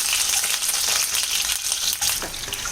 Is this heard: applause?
no